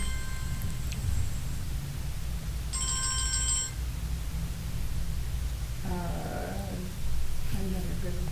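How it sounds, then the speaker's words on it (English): A phone rings during a school board meeting, its electronic ringtone sounding in several short bursts over steady room murmur, with voices heard around it. "Uh-oh, your phone's ringing."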